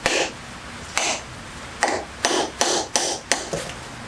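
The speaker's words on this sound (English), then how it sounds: "we will hammer this one into place" Seven sharp metallic hammer strikes, spaced irregularly, each ringing briefly before fading, as a grease seal is hammered onto a car wheel hub; close and fairly loud with no talking.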